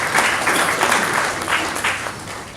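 Audience applause for the sponsor MTN at the Miss CI 2017 launch event, a steady burst of clapping from a crowd that holds at an even level for the whole stretch.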